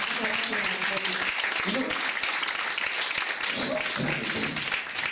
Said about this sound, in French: Let's clap for Maggie Barrier.